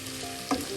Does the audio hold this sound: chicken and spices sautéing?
yes